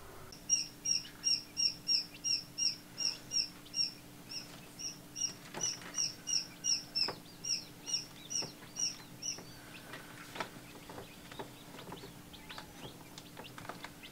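Newly hatched baby chicks peep close by in quick, regular runs of high chirps. Scattered soft knocks and a low background hum come in as the peeping thins out.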